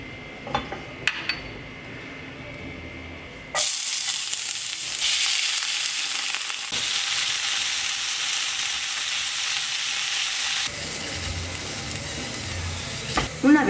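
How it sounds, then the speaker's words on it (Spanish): Cactus pads (nopales) with onion and chili frying in hot oil, a loud steady sizzle bursting in suddenly and continuing with occasional stirring and pan clinks, no talking. "Vamos a freír un poco los nopales con la cebolla y el chile."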